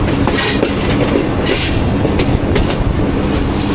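Loud, continuous rumble of the Jaffar Express train approaching Rawalpindi railway station, Pakistan, with rhythmic clacking of wheels and occasional metallic squeals, close by.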